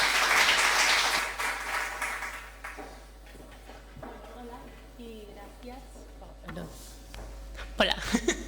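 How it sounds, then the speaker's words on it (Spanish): A conference audience bursts into applause that fades out after about two seconds, followed by a person speaking into a microphone in a hall. "Un aplauso."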